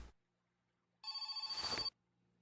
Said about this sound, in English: This is probably not an important phone call.